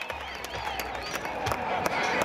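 A rodeo crowd at the 2020 Will Rogers Range Riders Rodeo claps and cheers, a broad steady wash of applause swelling slightly toward the end while an announcer's amplified voice carries over it.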